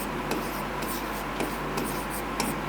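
A marker or chalk writing on a board, with soft rhythmic scratching strokes and light taps at regular intervals against steady background hiss, close and fairly quiet, with no talking.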